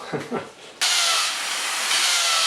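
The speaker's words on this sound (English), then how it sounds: "I don't know what I was drilling against" A brief voice is followed by a power drill starting abruptly and drilling into a wall, whining steadily with a loud, bright hiss until the end.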